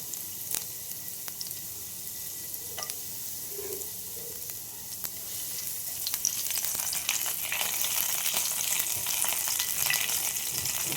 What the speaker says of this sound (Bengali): লাল শাক রান্না করার জন্য আমি কড়াইয়ে প্যানটার মধ্যে তেল দিচ্ছি, একটা শুকনো লঙ্কা দিয়ে দিলাম, একটা রসুন কুচি করে